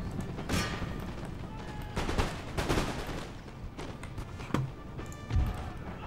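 Cannons firing shrapnel and canister shot in the Empire Total War video game: a crackling run of booming shots and sharp volleys, some near and loud, others distant, with dense battle noise between.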